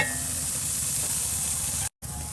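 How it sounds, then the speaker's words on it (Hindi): Water at a rolling boil in a kadhai, a steady broadband hiss and bubbling roar heard close and alone, broken by a brief silent cut near the end. "पानी बहुत उबल रहा है।"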